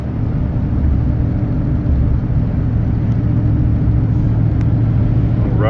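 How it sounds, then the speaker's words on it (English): An old beater Dodge truck used for hauling firewood and trash drives steadily, its engine and road rumble forming a loud, continuous low drone from start to finish with no one talking. "This is just a firewood truck, trash truck. It's just a beater. It's an old Dodge."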